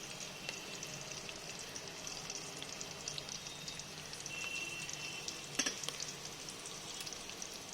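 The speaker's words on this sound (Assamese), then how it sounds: "এতিয়া এইখিনি মই অকণমান দেৰি ল' ফ্লেমতে ভাজি থাকিম" Sugar frying over a low flame in a cooking pot for pulao, giving a steady, soft, close sizzle with faint crackles and no voices.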